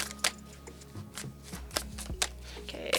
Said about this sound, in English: Let's get one more quick shuffle in there.